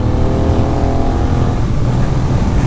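Benelli 752S motorcycle engine holding a steady, loud drone at high speed near 160, with constant wind rush and no pauses or gear changes.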